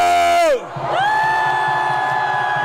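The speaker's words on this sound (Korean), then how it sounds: "10대 있다면 전방을 향해 함성!" At a political rally by Dongdaegu Station, a crowd of teenagers shouts and cheers loudly after a falling amplified call, then holds a sustained, massed roar of voices.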